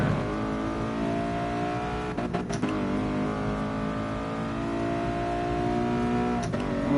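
Nissan R32 GT-R engine in Gran Turismo Sport at Tsukuba, revving steadily with a strong harmonic drone and brief dips between shifts, loud and close throughout.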